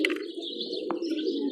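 Pigeons at a pigeon club in Jalilabad give soft, continuous cooing and brief chirps, steady and close, with a short flutter-like burst midway and no talking.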